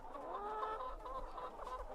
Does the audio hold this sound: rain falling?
no